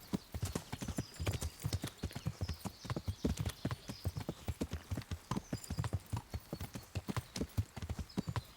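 Horse hooves clip-clop in a quick, steady rhythm throughout, close and clear, with no voices, in the video game Kingdom Come: Deliverance.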